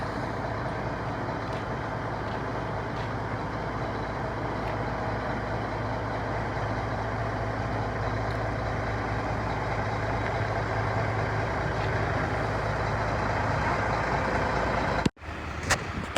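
A V8 Mack truck that has just carted house sections runs with a steady, loud diesel drone throughout, ending with a brief thump and a sudden drop.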